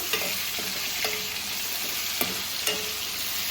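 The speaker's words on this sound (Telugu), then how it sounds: "కొంచెం ఆయిల్లో వేపుకోవాలండి ఇవి వేపుకుంటే బాగుంటుంది" Dried prawns frying in oil, a steady close sizzle with a few sharp scraping stirs spaced through it, no voices.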